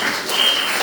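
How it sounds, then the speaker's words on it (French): A church congregation claps together in a dense, loud burst of applause that carries evenly through the short moment. "Applaudisseer voor mijn broer, voor mijn zuster."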